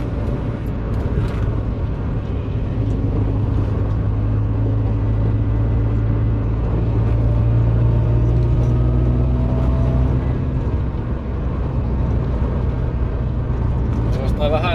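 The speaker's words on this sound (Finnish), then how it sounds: "Semmonen putkutusääni kuuluu nyt kun päästään kaasuun." A car engine fitted with an AMR500 belt supercharger, its throttle body moved in front of the blower, rumbles loudly and steadily under throttle, with a low droning tone and talking over it.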